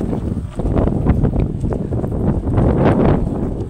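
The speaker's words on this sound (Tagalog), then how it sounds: "Masyadong mahangin" Strong wind at Boracay buffets the microphone with loud, continuous low rumbling gusts that surge and ebb throughout.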